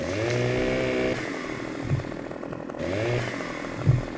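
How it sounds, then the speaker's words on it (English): A chainsaw cuts into a tree trunk in the video game Farming Simulator 17, its engine revving loud and steady in two long bursts with bogging dips between them, and no talk over it. "Following my chainsaw."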